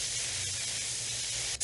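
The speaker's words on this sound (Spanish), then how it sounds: "El raid o tirando el aerosol" Aerosol insecticide spray as a sound effect: a steady, loud hiss of spray from a can, continuous and close, cutting off briefly near the end.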